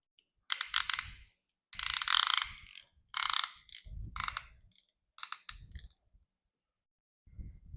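Ratchet handle tightening a piston ring compressor over the rings of a piston for a 1965 Ford 3000 engine, heard as several close bursts of rapid clicking separated by short pauses.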